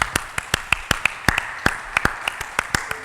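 Rhythmic clapping from a church congregation acclaiming God during a worship service, a quick run of sharp, distinct claps, fairly loud and close, with no talk over them.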